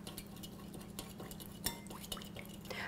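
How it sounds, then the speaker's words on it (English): Whisk clicking against a bowl while olive oil streams into a lemon-thyme dressing, quick light metallic taps and scrapes close up, fairly quiet, with a low steady hum underneath. "you need to stream it in while you are whisking."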